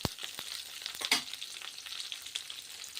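Curry leaves and torn dried red chillies sizzle and crackle loudly in hot oil for a vegetable sambar tempering. The frying hiss runs steady throughout, with a sharp burst of spattering near the start as the leaves hit the pan.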